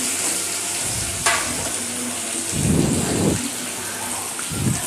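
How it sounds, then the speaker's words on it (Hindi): Paneer cubes frying in hot oil in a pan with salt, a steady sizzle that swells into louder bursts of crackling as the pieces are stirred, close and without talk. "तो देखिए हम पनीर को अभी फ्राई कर रहे हैं।"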